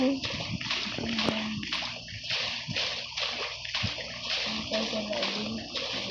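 A player wades through water in Call of Duty Mobile, with repeated rhythmic splashing and sloshing strokes close by and game effects mixed in, while voices talk over it.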